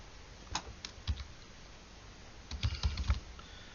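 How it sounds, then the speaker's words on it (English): Soft keyboard typing in scattered clusters of keystrokes, close and quiet, with a brief pause between bursts and no talking. "now all I'm actually doing is just typing the email address"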